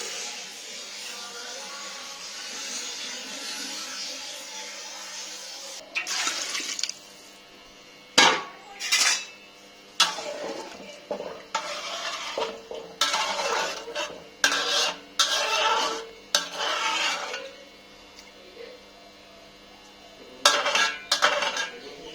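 Rice fries in a pan with a soft hiss at first, then a utensil scrapes and clinks against the pan in a string of short, sharp stirring strokes with brief gaps.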